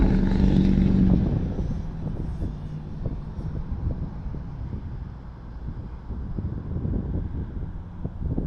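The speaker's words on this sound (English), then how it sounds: "It's a little windy today." Steady, loud roar of wind blowing across the microphone, a dense low rumble that persists throughout with slight surges.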